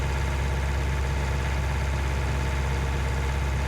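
Steady, unbroken low-pitched engine hum from a small purple tractor in Farming Simulator 19, running evenly throughout without any talking.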